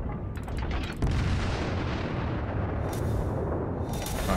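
Battleship main guns fire in World of Warships, a few sharp cracks up front giving way to a deep rolling boom, with distant blasts later, all loud and close with no talk.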